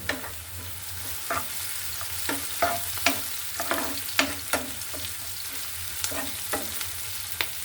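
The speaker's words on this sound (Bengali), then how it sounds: "পেঁয়াজটা আমি তেলে ভেজে নেব" Onion frying in oil in a pan, a constant bright sizzle with repeated scraping stirs of a utensil at a steady rhythm, close and clear, with no talk.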